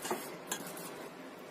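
A seasoned tofu mixture is stirred in a bowl, with faint soft scraping and a few light clinks of a utensil against the bowl, quiet and close.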